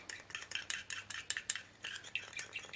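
Paint for resin shoe soles is stirred in a small container, a quiet rapid series of light scraping taps and clinks in an uneven rhythm, close and alone.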